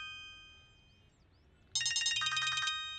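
A phone rings indoors, with a bright electronic ringtone bursting in loudly after a quiet stretch and repeating in a quick warbling pattern.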